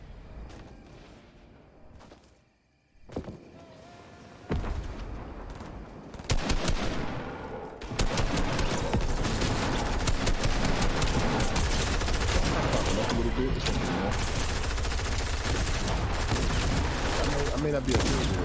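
Rapid video game gunfire, sparse shots at first then sustained dense automatic bursts that fill the rest of the stretch, loud and close.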